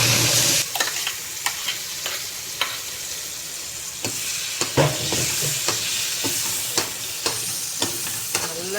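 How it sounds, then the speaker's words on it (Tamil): Banana paste fries in ghee in a tawa while being stirred for halwa, giving a steady sizzle broken by repeated spoon scrapes and knocks at a fairly even rhythm. "இப்போ நம்ம இந்த நெய்யிலே போட்டுக்குவோம்"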